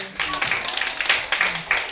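A small group of schoolchildren and adults claps in a brief, uneven round of applause, moderately close, with a voice faintly underneath.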